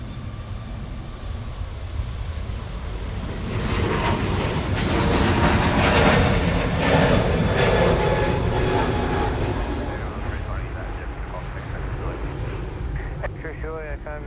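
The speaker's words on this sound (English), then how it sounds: "Kiwi friends now departing. Runway 34 right." An Airbus A320 jet takes off from runway 34R at Sydney Airport, a loud, broad steady roar that swells in the middle and slowly eases, with distant chatter faintly underneath.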